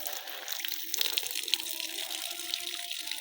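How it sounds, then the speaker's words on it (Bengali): Water from a battery-powered submersible bilge pump gushes steadily onto chui jhal plants on a farm, a continuous hissing splash near at hand. "এখন এই চুইঝাল গাছগুলোরে পানি দিচ্ছি"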